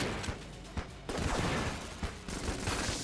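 Rapid gunfire from the video game Enter The Gungeon, a dense, continuous fusillade of shots with sharp peaks over a busy game soundscape.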